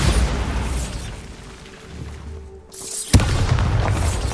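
Bombarda spell detonation from Hogwarts Legacy on PS5: a brief hush, then one sudden loud boom with a sharp crack, followed by a rumbling low-heavy tail and lingering debris noise.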